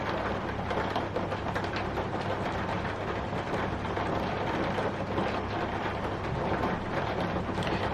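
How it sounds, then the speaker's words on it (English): Heavy rain pours steadily outside an open door with thunder rumbling underneath, a dense, continuous roar that stays loud and unbroken throughout, with no voices. "Talk about a little bit of rain."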